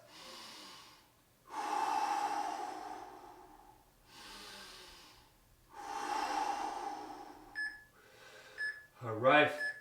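Heavy recovery breathing after an exercise workout: four long, loud, rhythmic exhale-and-inhale cycles close to the mic, followed by a few short electronic beeps and a final quick huff.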